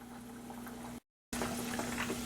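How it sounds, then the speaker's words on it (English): Breaded pork tenderloin frying in a pan, a steady close sizzle and bubbling hiss with a faint hum beneath, broken by a short silent gap before the frying resumes louder. "So I'm going to let this fry up"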